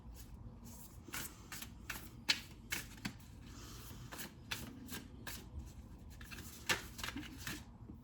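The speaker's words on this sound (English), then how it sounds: "So I'm just shuffling my cards." Tarot cards are shuffled by hand in a quiet room, a string of soft, crisp riffling slaps and flicks repeating irregularly over several seconds, close and fairly quiet.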